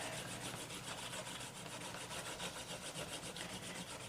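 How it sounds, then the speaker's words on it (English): A hand tool rubs back and forth along the wet edge of a leather belt, a steady close-up scraping and rubbing in quick repeated strokes with no voices. "while the edges are wet, that's when I take and just burnish the edge"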